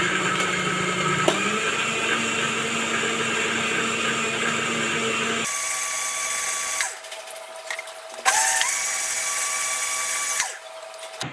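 A kitchen blender whirs loudly while mixing Brazilian lemonade, holding a continuous high motor roar, then cutting off and restarting in short bursts with brief quiet gaps.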